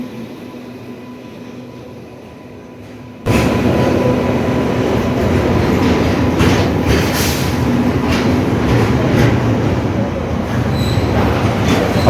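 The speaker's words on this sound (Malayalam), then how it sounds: "ഇപ്പോൾ ഒരു ട്രെയിൻ വരുന്നുണ്ട് ഗുഡ്സ് ആണ്" At a railway station, a freight train rumbles in abruptly after a few quiet seconds, its loud, steady roar and rattling wheels filling the rest of the clip.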